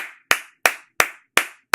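Five crisp hand claps, close and loud, evenly spaced in a steady beat with silence between each.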